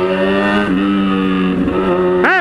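Yamaha MT motorcycle engine revving loud and close with steady harmonic drone, pitch dipping then rising sharply as it accelerates near the end.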